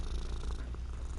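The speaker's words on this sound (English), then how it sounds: "Can everybody hear you purring?" A cat purrs close to a microphone, a soft continuous low rumbling that pulses steadily throughout with no talking.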